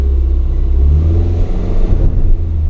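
A car engine runs steadily with a low, continuous rumble and slight rise in revs as the vehicle pulls away on a hill ramp, close and alone.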